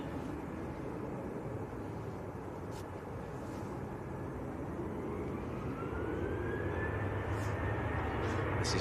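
Ryanair Boeing 737-800 airliner heading to Alicante, a steady distant jet roar at Manchester Airport that slowly swells louder, with a faint rising engine whine toward the end and no talk.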